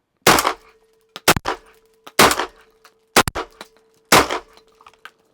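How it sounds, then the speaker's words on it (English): A cut-down Browning Auto-5 12 gauge shotgun fired at close range, with four loud, sharp blasts spaced about a second apart, each followed by brief mechanical clatter, over a faint steady hum. "we're shooting here at about 6 yards, not very far, but it recoils very softly for a 12 gauge"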